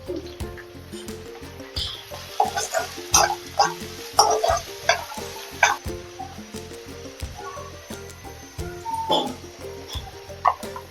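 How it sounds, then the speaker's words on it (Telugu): Ingredients for veg pulao fry in a pan as they are stirred, with crackling sizzles and spatula scrapes over a steady rhythmic backing. "బాగా ఫ్రై అవ్వాలి."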